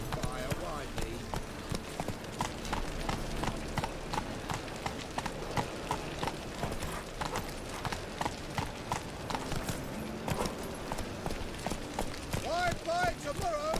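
Roach, Geralt's horse in The Witcher 3, gallops with a rapid, steady clip-clop of hooves throughout, close and continuous, while voices talk over the hoofbeats.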